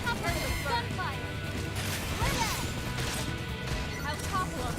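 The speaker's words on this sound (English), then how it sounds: "Gunfire." Gunfire and combat effects from the Xenoblade Chronicles X video game form a dense wall of sound, with rapid shots, impacts and clanking weapon noises under steady game music and chatter throughout.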